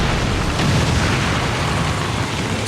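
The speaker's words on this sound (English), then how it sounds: "Detonating charge." A detonated explosive charge in the video game XCOM, one sustained loud roaring blast filling the whole moment, dense and close with no pauses or voices.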